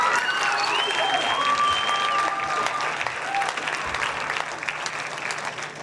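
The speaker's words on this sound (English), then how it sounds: "Please give them another round of applause." An audience applauds a jazz ensemble after a concert, thick steady clapping that fades slightly toward the end, with a faint voice and a few tonal sounds over it.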